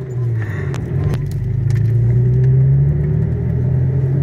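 A Nissan Maxima drifting under handbrake, heard from inside as a loud, steady low engine drone with the pitch slowly rising and falling, plus a few faint clicks and rattles.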